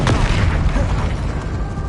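The Incendio fire spell cast in Hogwarts Legacy, a loud, dense rumbling whoosh that holds steady and close for about two seconds without any break.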